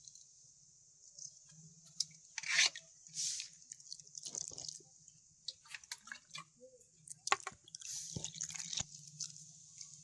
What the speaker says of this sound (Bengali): এবার জল পাল্টে 2-3বার ধুয়ে নেবো পরিষ্কার করে।